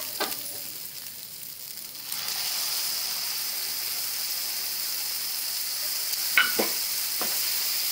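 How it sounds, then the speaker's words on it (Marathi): Tomato gravy sizzling and frying in a pan over browned fried onions for street-style egg bhurji, a steady close hiss with a few stirring scrapes near the end. "आता याच्यात ना टोमॅटोची ग्रेव्ही टाकूया आपण"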